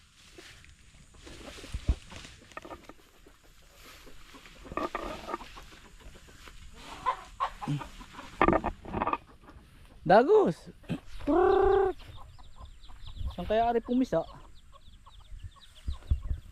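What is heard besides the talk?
chicken clucking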